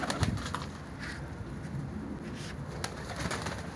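Pigeons coo softly nearby, with several low cooing calls and faint wing flutters over a quiet outdoor background.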